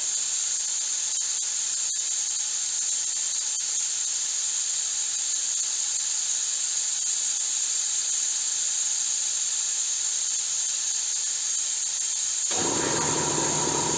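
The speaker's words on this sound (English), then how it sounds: "The compressor's just kicked in, and not quite a minute." An air compressor kicks in while a spray gun is being tested during a Studebaker restoration: a steady high hiss runs throughout, then the compressor starts abruptly near the end, adding a low, rough running drone.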